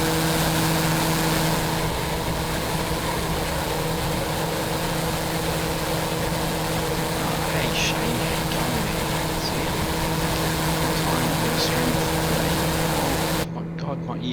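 A TBM 900 turboprop aircraft engine in the X-Plane 11 flight simulator hums with a loud, constant drone and steady tonal whine, unbroken for most of the stretch before cutting off abruptly near the end.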